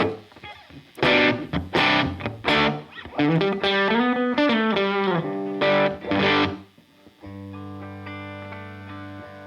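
Heavily distorted, fuzzy electric guitar through a Keeley Monterey Rotary Fuzz Vibe pedal, playing loud chords and riffs, ending on a sustained, buzzing held note.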